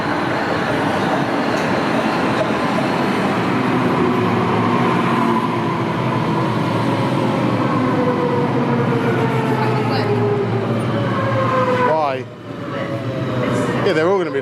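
Loud, steady rumble of a busy metro train in Belgium in motion, with rising and falling whines and squealing wheels. A brief dip near the end gives way to more rolling noise.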